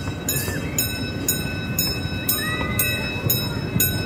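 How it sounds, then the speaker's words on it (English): The J&J Railroad train ride through Storybook Land rolls along steadily, with rail clacks coming at a regular beat of roughly one every half second over a continuous rumble. "Here's the train"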